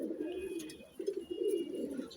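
Pigeons recovering from indigestion give soft, low coos in repeated short bursts, quiet and close with faint background noise.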